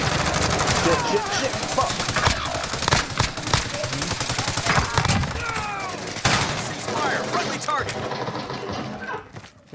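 Dense bursts of automatic gunfire ring out in Call of Duty Warzone (Cold War era), close and loud, while a man swears briefly over the shooting before it fades at the end.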